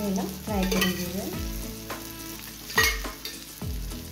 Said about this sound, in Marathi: आता गॅस एकदम लो फ्लेममध्ये ठेवून आम्ही ह्याला फ्राय करून घेऊया